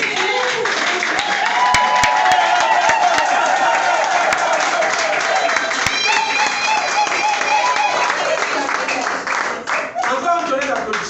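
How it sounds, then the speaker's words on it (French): A live audience applauds loudly and steadily at a product demonstration, with dense clapping filling the whole stretch and tonal sounds riding over it. "Encore un tonnerre d'applaudissements."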